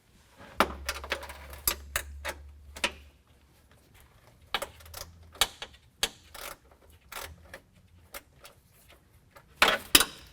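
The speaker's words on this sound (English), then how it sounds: "all it really takes is just loosening that nut, and then this bolt can slide free" A ratchet working a nut loose on a bull bar bracket of a 2019 Ram 1500, giving a series of sharp, close clicks in uneven bursts with quiet gaps between them.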